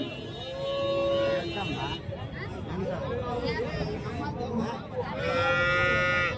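Cattle low and moo at a dairy-cow market in Santhipuram, Andhra Pradesh, with repeated drawn-out calls rising over a constant murmur of crowd chatter and nearby talk.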